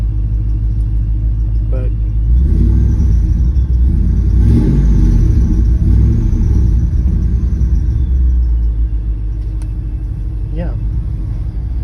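A 2002 Ford F-150 Lightning SVT engine idles with a steady low rumble and a faint belt whine, close by and continuous, with someone talking briefly over it.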